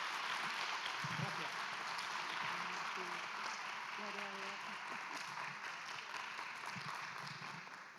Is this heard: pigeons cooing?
no